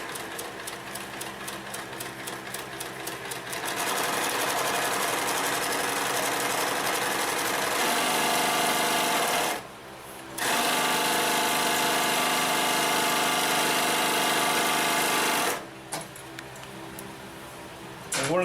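A Consew 227R-2 cylinder-arm walking foot sewing machine stitching leather for handbags and belts, running loudly with a steady, rapid mechanical hum that stops briefly twice before starting up again.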